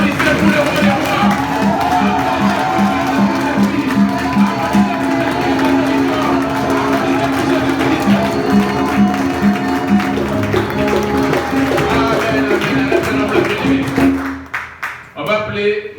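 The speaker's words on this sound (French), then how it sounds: "Applaudissez pour le roi des rois." A church congregation claps and cheers in a steady, crowded wash over ongoing music, the applause sustained throughout before dropping away abruptly near the end.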